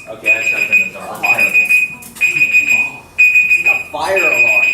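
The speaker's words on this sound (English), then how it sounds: "A fire alarm." A fire alarm beeping in loud, regular pulses about once a second, close by, with a person talking over it.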